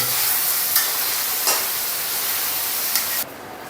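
Eggplant (bataun) sabji frying Punjabi style in a pan, giving a steady close hiss of sizzling with a few brief louder stirring scrapes, then cutting off abruptly near the end; no voices.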